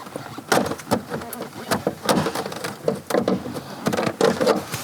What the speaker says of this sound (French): Donc on enlève nos deux agrafes qui sont sur le devant de la porte.